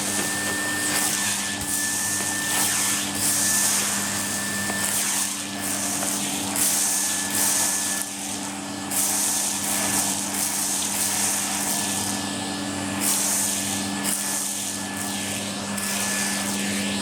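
A Hoover vacuum cleaner runs steadily and loudly, its constant motor hum and whine holding throughout with brief surges and dips as it sucks up stones.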